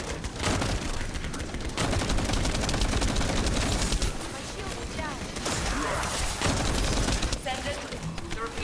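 Rapid gunfire in a shooter video game, dense bursts of automatic fire and repeated shots with mechanical clatter, loud and continuous across the clip with brief pauses.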